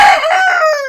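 A rooster crows once on a farm, a short, bright, close call with a slightly falling tail and no talk over it.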